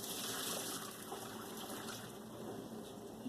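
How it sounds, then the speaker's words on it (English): Hot boiled potatoes and their cooking water pour into a colander in a steady, close gush that trickles on for a few seconds with no talk. "And here goes the potatoes into the colander"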